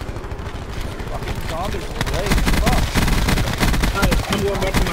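Rapid bursts of gunfire from the video game Call of Duty Black Ops 4, loud and dense, layered with in-game effects while a player talks over the shooting.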